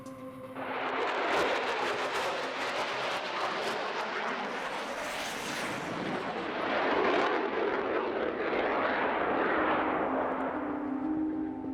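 A military aircraft intercepts a suspect plane, rushing in at high speed and then slowing abruptly beside it. A loud, sustained roar fills the air, swelling again partway through, with no voices.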